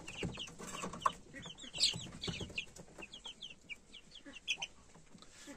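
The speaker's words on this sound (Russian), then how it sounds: "Много петушков вижу." Roosters and hens on a farm cluck and call in a busy, overlapping chorus, with several birds close by and others further off, steady throughout with no talk.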